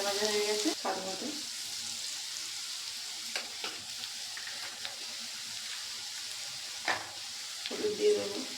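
Potatoes and snake gourd fry in a pan and get stirred, with steady soft sizzling and a few louder scraping bursts of the spoon near the start, middle and end.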